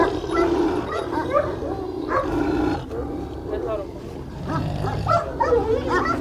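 A large Turkish shepherd dog, a Kangal-type livestock guardian, gives deep, rough barks and growls up close while people talk over it.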